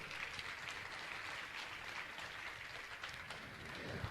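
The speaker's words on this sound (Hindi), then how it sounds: "ताली बजाकर का सम्मान करें।" A crowd at a Jain religious gathering claps to honour a family, giving steady, sustained applause that stays even and full from start to finish, with no voices above it.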